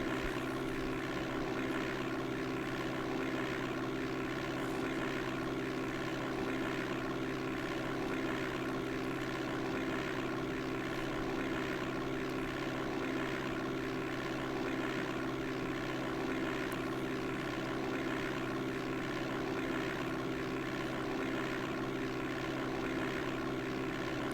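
Steady propeller airplane engine drone from the DOS game Flight Simulator 5.1, a constant loud hum in level flight over Wisconsin and Minnesota scenery, unbroken for the whole stretch with no talking.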